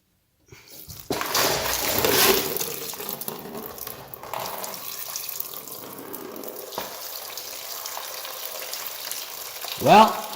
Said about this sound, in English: So we can remove that drain plug, get a catch can and whatnot underneath here, and start draining that radiator.